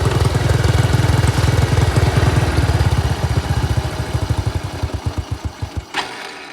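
An old Apache motorcycle engine under carburetor work idles with a rapid, loud single-cylinder putter, then slows into spaced, uneven chugs and sputters to a stop close by.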